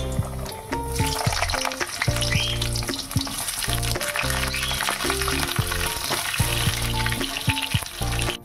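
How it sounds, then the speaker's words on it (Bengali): Cut potatoes frying in hot oil, with a loud, continuous close-up sizzle and bubbling, while a steady tonal melody plays alongside throughout. "প্রথমে তেলে আমি আলুগুলো ভেজে নেব।"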